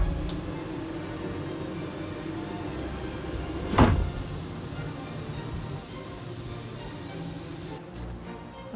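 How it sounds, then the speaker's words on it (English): A Maxx Air roof vent fan in a van runs on high, giving a steady, even whoosh throughout, with one brief louder knock or thump partway through. "you can hear the noise difference in the fan"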